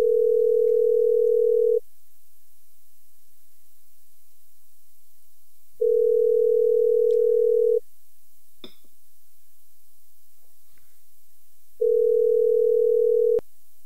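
Telephone dial tone after a dropped call: three loud, steady electronic tone bursts of about two seconds each, separated by roughly four-second silences, with faint clicks in between and no talking.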